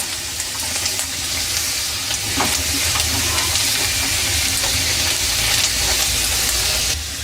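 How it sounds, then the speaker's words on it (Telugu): Raisins fry in a pan for sheer kurma, giving a continuous close sizzling hiss with faint stirring scrapes throughout. "కిస్మిస్లు అయితే చాలా ఉబ్బుతాయి. మంచిగా అనిపిస్తుంది నాకు అవి వేగుతుంటే ఇట్లా."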